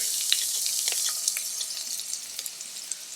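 Garlic, ginger and onion sizzle in a hot pan for vegan sisig, a steady hissing fry with small crackles and pops, close and moderately loud, with no talking.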